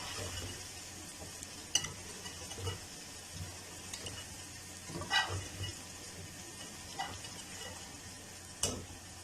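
Potatoes frying with garlic in a karahi for Afghani aloo karahi, giving a soft, continuous sizzle with occasional stirring scrapes and clinks from a utensil, with no talking.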